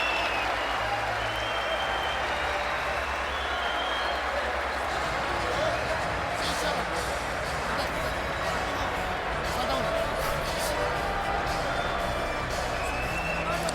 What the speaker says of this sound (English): Crowd roars.